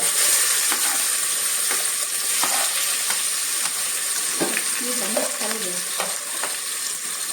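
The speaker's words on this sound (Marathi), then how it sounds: "आता तेल तापलेलं आहे फोडणीला कांदा घालतायत पहिल्यांदा" Chopped onion frying in hot oil with bay leaf, the base for a village-style country chicken curry, crackles in a steady close sizzle with scraping stirs and a few sharp clicks throughout, no voices.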